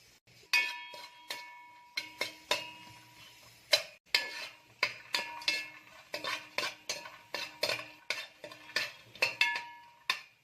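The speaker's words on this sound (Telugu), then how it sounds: "ముందుగా ఎండు కొబ్బరి వేసుకుందాం నూనె అవసరం లేదండి నూనె వేసుకోవద్దు" A metal spoon scrapes and clatters briskly against a pan as dried coconut is dry-roasted without oil, the rapid irregular clinks and scrapes close and loud with no voices.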